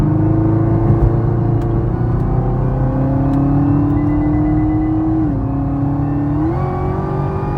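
A Chevrolet Camaro ZL1 drives in fog, its engine a loud, steady close-up drone from inside the car, with the pitch dipping and rising at a gear change near the end.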